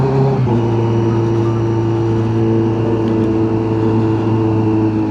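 Four-cylinder engine of a 2024 Kawasaki Z900 motorcycle pulling steadily in third gear, a loud continuous drone with no voices.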